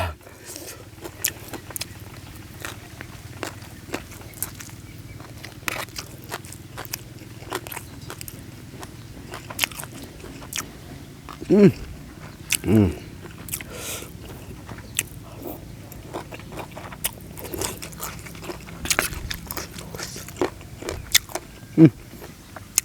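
Someone eating bamboo shoot curry with mushrooms and chili dip, with close, sporadic bites, crunches and wet chewing scattered over about twenty seconds against a faint background hum.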